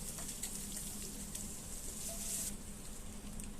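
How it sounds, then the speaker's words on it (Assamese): Ginger, garlic, chili and onion frying in hot oil make a steady, soft sizzle and crackle, continuous and close, with no one talking. "ভাজি খুন্দি থোৱা আদা, নহৰু আৰু জলকীয়া যে আছিল সেয়া তেলতে দি দিছোঁ। পিঁয়াজৰ লগত একেলগে তেলতে দি দিছোঁ।"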